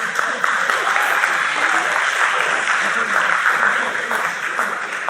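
A formally dressed comedy audience breaks into sustained applause that fills the room, many hands clapping in a dense, loud wash that holds steady for several seconds.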